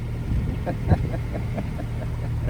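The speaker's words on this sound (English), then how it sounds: "I'd love to switch the engine off, save diesel" A sailboat's diesel engine drones with a low, steady rumble throughout, with faint rhythmic pulsing and a few soft knocks, offshore in heavy sea.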